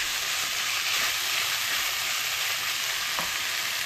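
Paneer bhurji fries in a pan with a loud, constant sizzle and hiss, a dense unbroken crackle with no voices.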